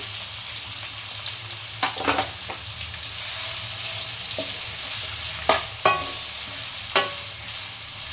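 Chopped onion sizzles steadily in a pan under a constant hiss, broken by a few sharp scrapes and clacks from a spatula stirring the pieces.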